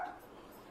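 A dog gives a short, close bark or yip at the very start, then quiet room tone follows, with no talk.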